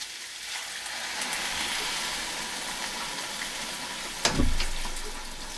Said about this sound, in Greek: Θα προσθέσουμε τα ρεβίθια, τα προβρασμένα, και θα τα σκεπάσουμε τώρα με ζεστό νερό